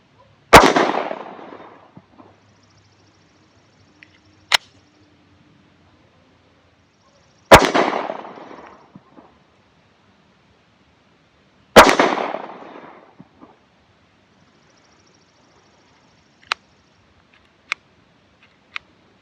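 A SCCY CPX-2 pistol fires Winchester flat nose ammunition outdoors, three loud, sharp shots spaced several seconds apart, each trailing off in a short echo, with faint clicks and metallic handling sounds in between.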